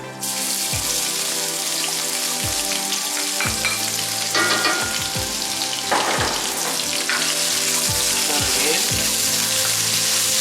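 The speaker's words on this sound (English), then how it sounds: "we're going to put in all the aromatic vegetables, okay? The onions, the ginger, and the garlic." Onions, ginger and garlic fry in melted ghee in a hot cast iron wok, a steady loud sizzle with repeated scraping and stirring strokes throughout, no voices.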